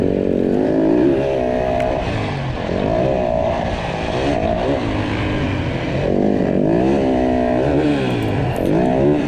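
A Yamaha WR450F dirt bike engine revs and accelerates on a motocross track, loud and close, rising and falling through repeated pulls out of corners in third gear.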